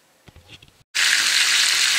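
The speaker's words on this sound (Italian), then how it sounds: "abbiamo messo un po' di olio in una padella e adesso stiamo friggendo i bastoncini o i filetti di pesce" Frozen fish fillets or fish sticks frying in oil in a pan give a loud, steady sizzle that starts abruptly after a brief silence and continues without a break. Faint handling clatter comes before it.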